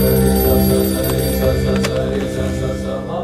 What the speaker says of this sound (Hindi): हे, रामाचारी जी को फोन कर